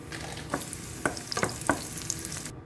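Raisins fry in hot ghee in a pan, a steady sizzle cut by several sharp scraping strokes of a spoon stirring them, with no talking.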